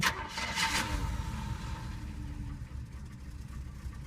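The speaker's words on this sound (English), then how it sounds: "So it has an exhaust leak. It was ticking when I first got it going" A 1990 Oldsmobile Custom Cruiser station wagon engine idles with an exhaust leak, a steady close rumble that stays even and fairly loud for the whole span, with no clear ticking standing out.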